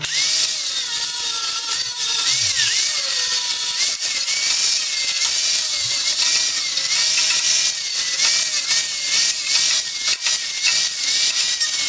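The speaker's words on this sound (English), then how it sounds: "Now we're just going to grind all the little areas" Angle grinder whining steadily and loudly as it strips mill scale from steel for a welded DIY fire pit, continuous high-pitched grinding with slight pitch wavers, no talking.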